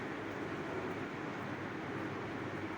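A Vande Bharat train arriving at a station on the Secunderabad to Vizag route gives a steady, broad rumbling roar at moderate distance, constant throughout with no voices.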